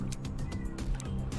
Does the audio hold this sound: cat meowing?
yes